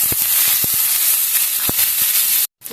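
Mustard seeds, urad dal, cumin, dried red chillies, green chillies and curry leaves frying in hot oil for a tempering, a loud close continuous sizzle with a few sharp pops, cutting off abruptly at the end.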